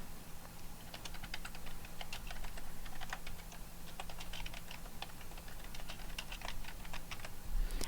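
Rapid, uneven clatter of keys on a computer keyboard, with quick bursts of typing separated by brief pauses, close and moderately quiet over a faint steady hum.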